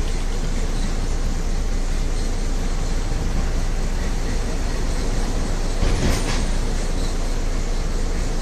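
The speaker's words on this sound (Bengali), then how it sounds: "এই যে ট্রেন যাচ্ছে, কাঞ্চনজঙ্ঘা এক্সপ্রেস আমাদের পাশ দিয়ে বেরিয়ে যাচ্ছে।" Kanchenjunga Express passing close by on the Farakka bridge: a loud, continuous rolling rumble of wheels and carriages that fills the whole stretch, with a brief sharper burst near the end and no voices.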